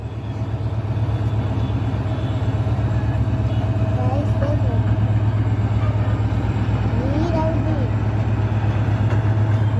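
A train rolls past at a railway crossing with a heavy, steady low rumble and rhythmic clatter throughout, loud and close, while people talk faintly in the background.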